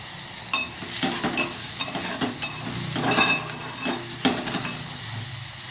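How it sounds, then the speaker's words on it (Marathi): Onion sautés in a pan while a spatula stirs it, giving a continuous sizzle broken by frequent scraping clicks and clinks, close and fairly loud with no voices. "व्यवस्थित कांदा परतून घेणार आपला कांदा झालेला आहे परतून व्यवस्थित"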